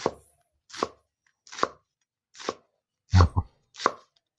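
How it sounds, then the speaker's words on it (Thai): A knife slices through banana blossom on a cutting board in six crisp, evenly spaced chops, close and sharp with silence between strokes. "ขั้นแรกอะมาหั่นมาซอยหัวปีกันครับ"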